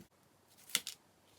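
Scissors trim paper for a handmade card, giving two quick close snips in a quiet room.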